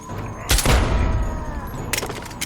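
Grenades burst in a video game firefight, with two sharp, punchy explosions about a second and a half apart over a busy background of battle noise.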